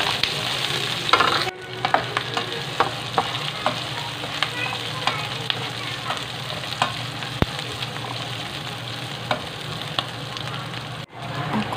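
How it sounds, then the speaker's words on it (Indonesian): Onion and ginger sizzle steadily in a hot pan for a miso soup with tofu and salmon, with frequent light clicks of stirring and a loud continuous fry; no talking. "Lanjut numis bawang bombay sama jahe. Ini aku tumis sampai harum ya."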